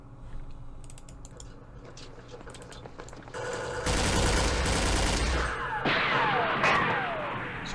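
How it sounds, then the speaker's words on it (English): Gunfire in the wargame Campaign Series Middle East on the Rebel Ridge map in Yemen: scattered clicks give way to dense bursts of small-arms and machine-gun fire, loud and continuous over the second half. "So we're getting shot at from back there"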